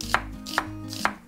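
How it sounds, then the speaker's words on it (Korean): Half an onion is julienned very thinly with a knife on a cutting board, giving three crisp, evenly spaced chops close to the listener with no talking. "양파는요 반 개만 하는데 아주 얇게 채쳐서 쓰겠습니다"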